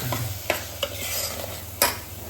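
Masala spices roasting in oil for Pune misal while a spoon stirs them: a soft, continuous sizzle with a few sharp scraping clicks from the spoon against the pan.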